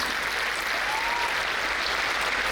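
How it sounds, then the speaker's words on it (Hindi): An indoor audience at a religious celebration in Bangalore claps in steady, dense applause that holds at an even level throughout. "हम ताली बजा रहे हैं"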